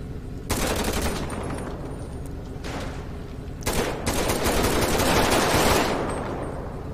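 Rapid automatic gunfire in GTA 5 roleplay during a police response to a bank robbery, loud, near bursts of shots running almost continuously with a brief lull, no talking over it.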